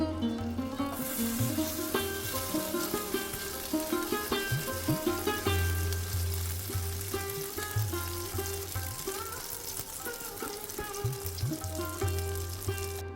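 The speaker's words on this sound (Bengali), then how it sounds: "বাকি আর যে কটা আছে সে কটাও ভেজে নেব" Pitha snacks fry in hot oil, giving a steady crackling sizzle throughout with occasional louder bubbling pops, close and continuous, no talking.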